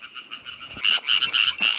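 A frog croaks in a quick run of raspy pulses in the Southern Peloponnese, Greece, close and clear, growing louder after the first few calls, with no talk.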